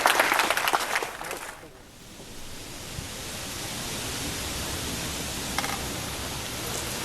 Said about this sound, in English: Oh, the crowd loves that shot.